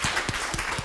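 Audience clapping for a performer at a live talk event, a short burst of dense, steady applause filling the room with a few louder claps standing out.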